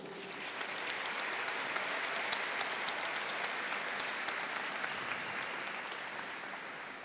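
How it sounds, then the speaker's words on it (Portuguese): Steady applause from the audience at the official opening ceremony of Campus Party Brasil 6, dense and sustained for the whole stretch at moderate loudness, with no voices on top. "Uma salva de palmas para todos."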